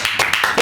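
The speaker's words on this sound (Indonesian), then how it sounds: "Luar biasa, tepuk tangan." A few quick hand claps burst out in a short run on a podcast, overlapping voices.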